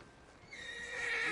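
A horse in the video game Red Dead Redemption 2 gives a rising, strained whinny that swells louder toward the end, heard close and alone.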